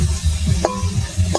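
Potatoes fry crisp in a pan of oil, a loud, close sizzle broken by a couple of sharp scraping or clinking stirring strokes.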